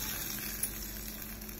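Cumin seeds and green chilies tempering in hot oil give off a steady, soft sizzling hiss throughout, quiet and close with no voices.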